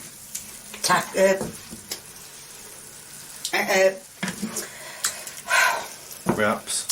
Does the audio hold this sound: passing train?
no